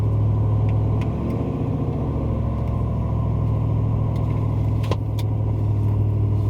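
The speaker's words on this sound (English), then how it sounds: "Hear that turbo." A truck engine towing a heavily loaded dump trailer drones steadily at close range, deep rumble with a faint whistle-like turbo whine riding on top throughout.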